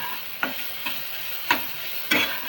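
Masala paste for vang bhaji roasting in a little oil, a steady close hiss broken by a few soft stirring scrapes at irregular intervals, with no talking.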